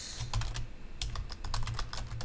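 Rapid clicking keystrokes on a computer keyboard as a command is typed into a terminal, in irregular bursts of close, fairly quiet taps with no speech.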